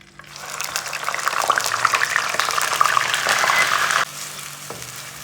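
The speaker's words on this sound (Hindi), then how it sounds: "ये मैंने एक अदद बड़े साइज का प्याज लिया है, इसको मैंने फाइन चॉप किया है। इसको मैं इसमें डालूंगी।" Finely chopped large onion hits hot oil in a cooking pot and bursts into a loud, close crackling sizzle that holds steady, then drops to a quieter simmering fry.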